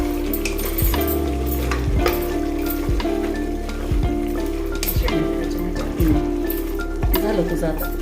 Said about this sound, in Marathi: आणि छान मिक्स करून घेऊ।